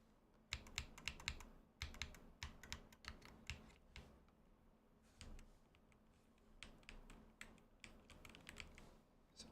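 A computer keyboard clatters at close range during a Max Payne livestream, with bursts of rapid keystrokes broken by short pauses. No one speaks.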